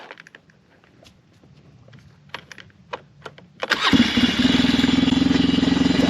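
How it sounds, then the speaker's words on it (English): A rebuilt 4x4 ATV that once smoked, clicking and cranking briefly before firing up into a loud, raw exhaust roar, then settling into a fast, steady, throbbing idle close by. "The exhaust is just really loud."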